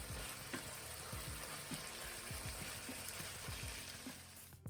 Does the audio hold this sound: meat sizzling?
yes